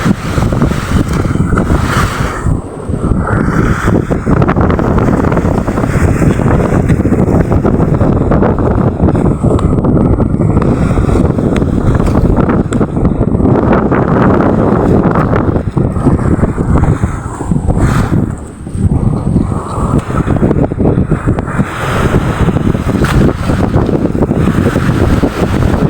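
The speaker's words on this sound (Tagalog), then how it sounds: "lumakas yung alon at sa hangin" Strong amihan monsoon wind buffets a boat at sea, with waves slapping the hull; a loud, continuous roar of wind on the microphone fills the whole stretch with only brief dips.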